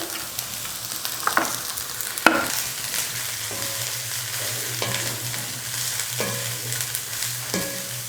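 Shredded cabbage sizzles steadily with sautéed onions in a hot frying pan, broken every second or so by spatula scrapes and stirring knocks, close up and without talk.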